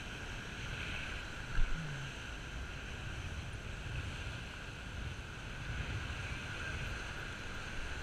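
Steady wind blowing on a rocky shoreline while fishing for mulloway, a constant loud rushing roar with a faint background hum and a small knock partway through, no talking.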